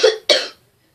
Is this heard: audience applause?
no